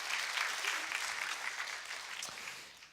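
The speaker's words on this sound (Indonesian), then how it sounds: "Berikan tepuk tangan buat Tuhan Yesus." Church congregation applauding together, a steady dense patter of many hands clapping at close range that holds for the whole stretch and eases slightly toward the end.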